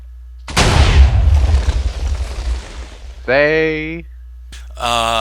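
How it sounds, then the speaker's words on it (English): Four linked TNT cannons in Minecraft fire together in one big rumbling blast that rolls on and fades over a few seconds, followed by short bursts of in-game voice sounds. "These are 4 TNT cannons all connected, and when you power them, they do this."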